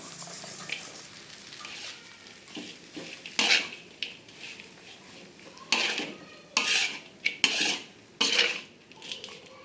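Metal utensil scraping and clanking against a pan while stirring sambal with fried onions and salted fish, in several bursts with pauses between, with a faint sizzle underneath.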